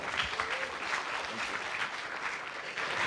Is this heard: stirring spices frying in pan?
no